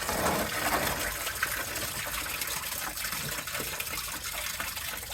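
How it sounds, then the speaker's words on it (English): Leftover coolant mixed with water drains from the engine of a Rolls Royce Silver Shadow, a steady gushing, splashing flow that runs continuously and fairly loud up close, with no talking. "I guess there was a bunch of coolant slash water still in there"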